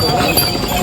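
Horses walking on the steep, slippery Kedarnath trek path, their hooves clip-clopping continuously amid busy trail noise and nearby voices.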